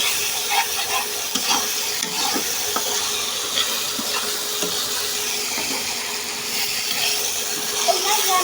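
Beef curry being stirred in a pot, a continuous scraping and sizzling churn with soft spoon knocks throughout, fairly close and steady.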